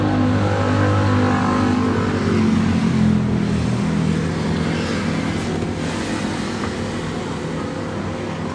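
A loud vehicle exhaust drones and revs close by on a night street in Indonesia, a steady, rough engine roar that swells slightly and then holds for several seconds.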